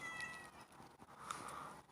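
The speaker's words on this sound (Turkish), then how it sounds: "Bu da bizim evin kedisi." A house cat meows indoors, its tonal cries carrying over a faint background hum, close and fairly soft across the short stretch.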